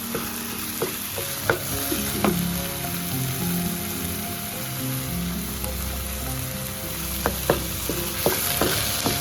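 Spinach frying in oil in a pan, with a steady close sizzle and scattered scraping stirs of a spatula through the greens, no voices.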